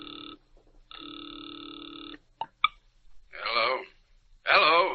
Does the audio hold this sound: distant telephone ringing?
yes